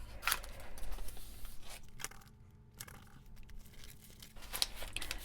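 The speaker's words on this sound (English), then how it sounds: "Let me just cut off the edge there" Scissors trimming the paper edge of a page in a Hobonichi Cousin Avec journal give several close, crisp snips mixed with soft paper crinkling and rustling, and nobody speaks.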